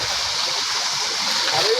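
A fresh mountain stream in the Sierra Madre rushes and splashes steadily, a close, bright continuous flow with no pauses.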